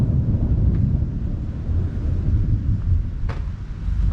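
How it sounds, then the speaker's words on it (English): Thunder rumbles during a storm over a cornfield at planting time, a deep low roll that swells and fades, joined by gusty wind noise and a couple of brief sharp cracks. "A little bit of thunder."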